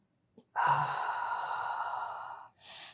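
A long, steady exhale during a home total-body workout, one sustained breath of about two seconds, close and fairly loud, followed by a shorter softer breath.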